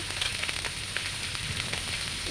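Hilsa fish pieces frying in a little oil in a nonstick pan, giving a steady, close hiss of fine sizzling and crackle with scattered small pops and no voices.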